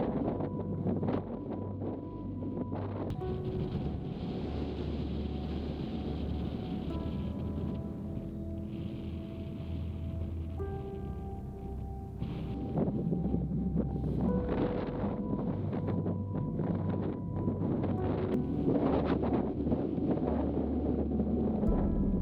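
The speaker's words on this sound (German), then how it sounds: "Ein kräftiger, kalter Wind zerrt hier oben an der Kamera und an mir." Strong, cold wind buffets the camera and microphone high on the open Raslet mountain ridge in Norway, a constant loud low rumble with gusty surges and no voices.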